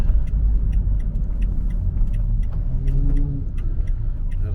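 A car passes on a town street in Hexham, a loud, steady road rumble with engine noise that swells and fades, heard up close without talk.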